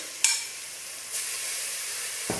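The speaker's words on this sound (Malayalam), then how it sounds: "അപ്പോൾ ഇത് നന്നായിട്ട് വഴറ്റിയെടുത്തിട്ടുണ്ട്" Grated carrot is sautéed in a pan for carrot laddu, giving a soft, steady frying hiss with a brief stir scrape near the start and a light clatter at the end.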